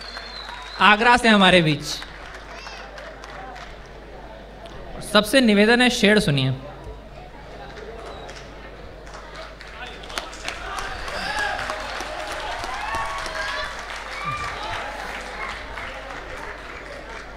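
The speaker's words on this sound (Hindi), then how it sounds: "एक बार कुशल धनोरिया के लिए जोरदार ताली बजाई जाए दोस्तों" Audience at a live shayari recitation applauding poet Kushal Dauneria; a crowd murmur and scattered clapping rise in the second half, while a voice speaks in two bursts near the start.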